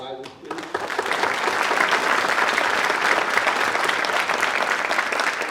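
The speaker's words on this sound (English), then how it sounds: "Round of applause for our advisors, please." At an honor society induction ceremony, the audience breaks into applause for the advisors; after a brief voice at the start, a dense, loud crowd clapping rises and stays steady.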